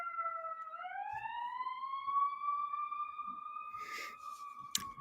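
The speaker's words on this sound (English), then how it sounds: "I'm just letting the ambulance or fire, whatever, pass by." An ambulance or fire truck siren wails in a long steady tone that slowly rises and then holds, heard from a moderate distance on a city street with a few faint background bumps.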